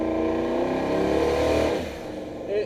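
A truck pulling under hard throttle in third gear, a steady mid-pitched engine drone that holds strong, then eases off and swells briefly again near the end, heard from inside the cab.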